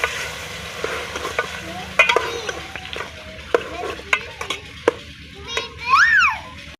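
Eggplant frying in ghee in a pan at a Pakistani village home, a steady sizzle under sharp scraping strokes of a spoon as it is stirred, with children's voices and someone talking nearby.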